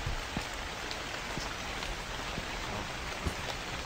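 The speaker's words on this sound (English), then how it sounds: "I forgot it was raining outside." Steady rain falling outside in a horror video game, a dense even hiss of drops with scattered louder patters, continuous and fairly loud with no voices.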